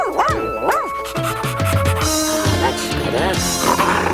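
A cartoon character magically turned into a dog yips, whimpers and barks in a bouncy, pitch-swooping series over busy animated background music, close and fairly loud, with a voice likely imitating the dog.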